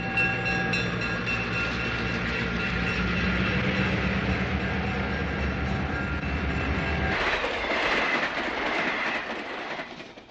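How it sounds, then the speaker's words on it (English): An eastbound Erie-Lackawanna passenger train, the World's Fair, rumbles past with a diesel drone and clicking wheels, loud and close, then the sound shifts to a rushing clatter as the cars go by and fades at the end. "This eastbound Erie-Lackawanna is the World's Fair"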